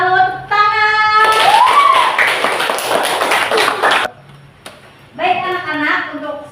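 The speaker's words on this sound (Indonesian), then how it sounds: "Tepuk tangan." Classroom students clap together in a short burst of rhythmic hand claps lasting a few seconds, close and loud, with a teacher's voice speaking before and after.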